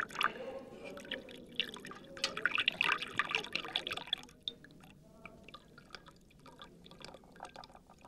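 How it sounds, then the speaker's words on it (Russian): Tea poured from a pot into a cup during a group gathering: a near, trickling splash of liquid filling the vessel, louder at first and then settling into softer drips and faint movement. "Чай наливай."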